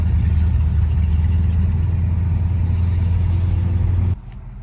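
A Chevrolet El Camino fitted with 3.73 rear gears drives along, its engine putting out a steady, loud low rumble that holds constant before dropping away abruptly near the end.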